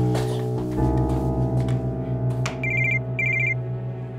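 A telephone rings in a Turkish drama scene, two short electronic ring bursts sounding clearly over steady background music and room ambience.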